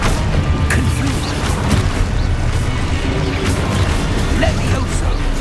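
Confringo fire-blast spell cast in Hogwarts Legacy, heavy booming bursts rolling through a dense, continuous wash of game noise, with a voice calling out over the action.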